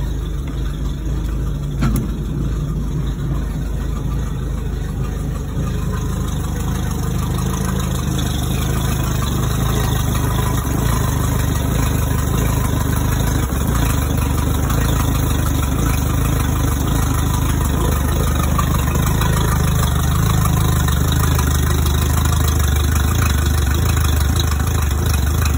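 A 2006 Alumaweld Talon 16 aluminum boat's outboard engine running in forward drive, a loud, steady low drone that holds constant throughout with no speech.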